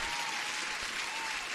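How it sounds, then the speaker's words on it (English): A short burst of steady, bright applause, even and uniform throughout, like a canned clapping effect with no voices. "Let me give you a proper applause here."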